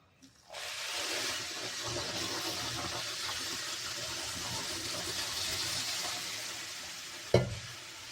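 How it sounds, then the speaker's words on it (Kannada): Boiling water is poured onto roasted semolina in a pan, setting off a loud, steady hiss and sizzle that continues for several seconds, close up, and ends with a sharp clank. "ನೀರು ಕುದಿಸಿಟ್ಟಿದ್ದೇನೆ, ನೀರು ಹಾಕ್ತಾ ಇದ್ದೇನೆ."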